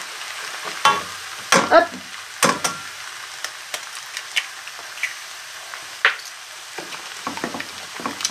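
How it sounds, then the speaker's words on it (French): Eggs cracked into a space in the middle of a wok of vegetables for vegetarian fried rice, sizzling steadily while being stirred, with sharp scraping and knocking of the utensil against the wok, close up; one short word is spoken. "on va casser nos œufs. On va tout de suite travailler comme ça."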